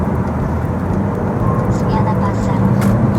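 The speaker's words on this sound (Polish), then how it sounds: "bardzo szybko sobie przyspieszamy do tych 140, które panuje na autostradzie" A Mercedes GLA 250 in comfort mode accelerates hard on a motorway from 100 toward 140 km/h to overtake trucks, its engine and road noise a dense, steady roar while someone talks over it.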